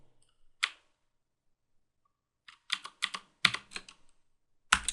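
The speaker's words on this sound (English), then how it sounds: "you're done typing your banner" Computer keyboard keys clack in short, quiet bursts as a login banner is typed into a Cisco router configuration, with a lone keystroke, a pause, then quicker clusters of taps, with no voices.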